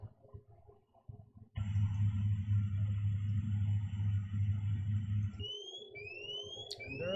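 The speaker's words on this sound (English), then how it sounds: "And there is my overspeed alarm" An overspeed alarm sounds in a Pilatus PC-12 cockpit in the X-Plane 11 simulator, a loud, steady electronic tone that holds for about four seconds and then cuts out. Faint rising chirps follow it.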